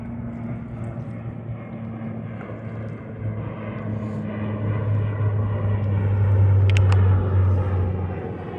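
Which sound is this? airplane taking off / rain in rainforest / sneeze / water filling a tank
airplane taking off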